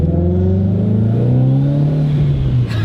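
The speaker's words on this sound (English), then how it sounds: "You get a little bit of the turbo noise." A turbocharged car accelerates hard, engine roar rising steadily in pitch with a faint turbo whine layered above, loud and close, easing off near the end.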